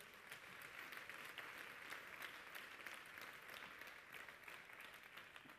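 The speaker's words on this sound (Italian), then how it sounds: "Facciamo un applauso" A forum audience gives a guest speaker a round of applause, a faint, steady patter of many clapping hands sustained evenly throughout, heard at low level from a distance.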